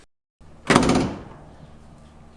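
A Jeep Wrangler TJ door swings shut with a single solid thunk after a brief rustle, followed by a fading rattle in a quiet garage-like space.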